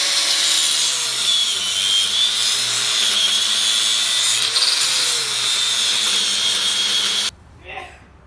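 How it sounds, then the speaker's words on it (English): An angle grinder cuts through a stuck wheel on a 2004 Ford E-350 cargo van, a loud steady high whine with wavering pitch running continuously for about seven seconds before stopping abruptly, followed by brief faint sounds. "I'm gonna take the grinder to it,"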